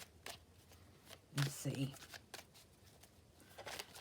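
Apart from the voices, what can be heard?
shuffling a black and white Faulkner tarot deck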